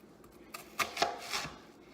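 A knife slicing an onion thinly on a cutting board for etouffee, a few soft irregular cuts and taps, quiet and close.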